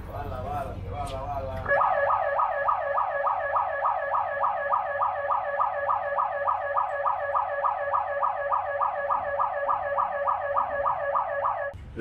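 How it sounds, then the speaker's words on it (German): A siren wails in a fast, repeating up-and-down warble aboard a cargo ship on the Amazon, loud and steady for about ten seconds after a brief stretch of background noise, cutting off abruptly at the end. "Ich glaube, die Sirene ist das Zeichen, dass wir abfahren."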